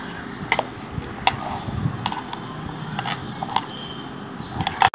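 Fish pakoda batter with fennel seeds is mixed in a bowl, giving soft wet squelching with sharp clinks and taps at irregular intervals, close and fairly quiet.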